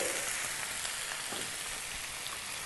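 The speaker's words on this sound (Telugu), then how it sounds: "ఆయిల్లో బాగా కలిసేలాగా కలుపుకోవాలి" Cauliflower, potato and tomato pieces with onion being stirred in hot frying oil, a steady dense sizzle running throughout without a pause, close and fairly loud.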